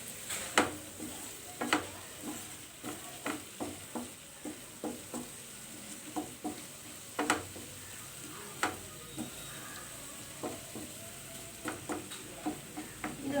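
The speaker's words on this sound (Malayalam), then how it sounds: "നന്നായിട്ടൊന്ന് മിക്സ് ചെയ്ത് കൊടുക്കുക." A spoon stirs dry fish masala fry in a hot pan: a soft steady sizzle under repeated scraping strokes, about two per second, close and fairly quiet, with no voices.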